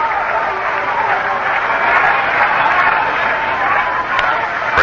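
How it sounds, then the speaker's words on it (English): Dense crowd rhythmic applause and murmur filling a baseball stadium, steady and loud throughout with a radio commentator talking over it. "fans down below behind the Seattle dugout with a rhythmic applause trying to get the Angels started"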